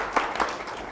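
Audience at a 1 Million Cups Albuquerque presentation event applauding, a steady wash of clapping from a crowd with a few louder claps standing out, no voices.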